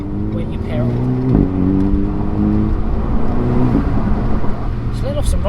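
A 300-horsepower Renault Megane RS Trophy pulling hard under acceleration, its engine drone loud and close with a brief sharp turbo flutter on the lift-off, a voice talking over it.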